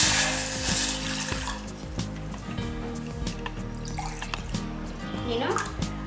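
Water is poured from a glass into a cooking pot for a homemade herbal kashayam, a brief filling gurgle that rises in pitch near the end over steady background tones.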